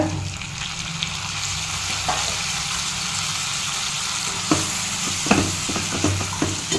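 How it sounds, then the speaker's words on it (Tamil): Steady loud sizzling of finely chopped tomatoes frying with masala in a pan, with occasional clicks and scrapes of stirring over the constant hiss. "ஒரு 50 கிராம் தக்காளியை நான் பொடியாக நறுக்கி சேர்த்துக்கிறேங்க"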